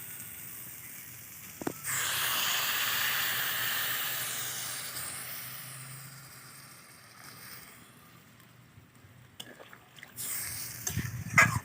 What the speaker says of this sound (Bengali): তো এবার দিয়ে দেবো জল।